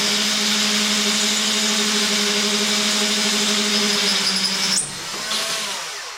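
A drill with a Porcadrill 365 diamond-tip bit bores through thick, water-cooled porcelain tile, giving a steady high whine and grinding hum that cuts out abruptly near the end, followed by a brief spin-down.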